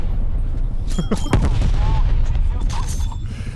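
Rapid gunfire and booming shots from Call of Duty Cold War on PS4 crack through a loud, dense game mix, a few sharp bursts close together with some rumble underneath.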